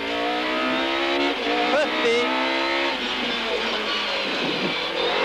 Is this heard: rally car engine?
yes